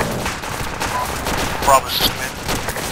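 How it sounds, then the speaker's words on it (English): Sporadic AK rifle fire in the military video game Arma 2, distant bursts and single cracks over low battlefield rumble, with a radio voice speaking over it. "There's sporadic AK fire coming from the plantation to our west."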